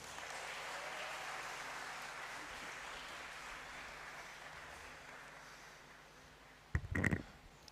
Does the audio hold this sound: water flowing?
no